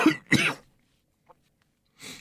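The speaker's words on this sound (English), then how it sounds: "I'm talking over his coughing" Two sharp coughs in quick succession, a pause of near silence, then another rough cough.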